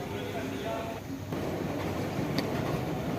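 Continuous broadband rumble of a train running near a railway station in Sindh, steady and loud throughout with a brief dip midway, no talk.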